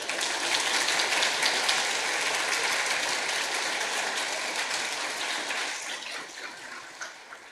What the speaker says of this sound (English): Yeah, applause might be in order.